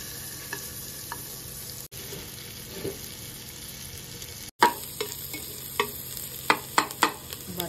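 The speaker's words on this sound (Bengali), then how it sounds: "এবার আমি রসুন কুচিগুলো দিয়ে দিচ্ছি।" Chopped garlic sizzles in butter for a Bengali-style chicken soup, with a steady low frying hiss and sharper clicks and scrapes of stirring that grow busier in the second half.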